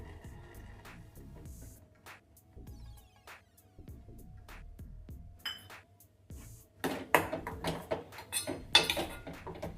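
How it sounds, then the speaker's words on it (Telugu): Melted jaggery is stirred into soft cooked rice for gudannam prasadam, with close spoon scrapes and metallic clinks against the pot that grow busier and louder in the second half. "ఇప్పుడు ఈ కరిగించుకున్న బెల్లాన్ని ఇందులో వేసి కలుపుకోవాలి."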